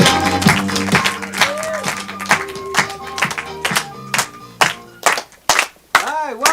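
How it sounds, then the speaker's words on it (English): Comedy club audience claps for an improv team taking the stage, a brief burst of scattered hand claps and taps with music in the background, fading into separate claps. "please give a warm round of applause for your first team of the night"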